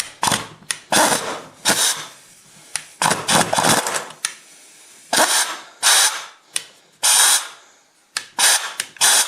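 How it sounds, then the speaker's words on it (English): A worn impact wrench hammers at a seized pitman arm in short, loud, irregular bursts of rattling impacts separated by brief pauses, close to the mic. "I think the old impact wrench has seen better days."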